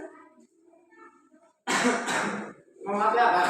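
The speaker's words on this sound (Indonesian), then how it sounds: "Maaf lagi batuk." A sharp burst of coughing, loud and close, follows a quiet stretch of soft murmuring, then gives way to a voice talking.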